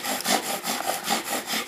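Rapid back-and-forth bow drill strokes rub a wooden spindle in a winter camp, a close, steady rasping friction with about six quick even pulses.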